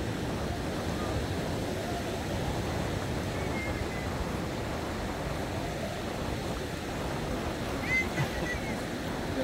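Sea waves at Recife, where the sea is running muddy and high, wash in as a steady, continuous roar of surf with faint wind and no clear breaks.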